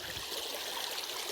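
A creek runs steadily over rocks outdoors, a broad, even wash of flowing water with no breaks, close and moderately loud, with no voices.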